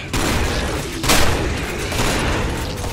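Flame shotgun blasts in the video game Killing Floor, a loud roaring burst near the one-second mark over continuous dense game noise, with brief talk.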